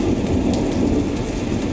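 Heavy rain pours during flooding on the streets of Anand, Gujarat, a loud, dense, unbroken downpour with a deep rumbling undertone like thunder beneath it, steady throughout and without voices.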